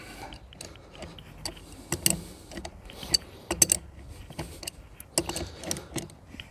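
A Storm cable gland is tightened onto steel wire armoured cable, giving soft, irregular clicks and ratcheting ticks up close, faint and scattered across the quiet.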